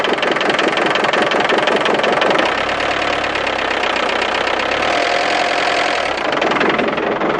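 An old 1990 Iveco Daily 35-8 diesel engine running loudly, a close, harsh, clattering rumble that holds steady throughout with a deeper drone swelling in the middle.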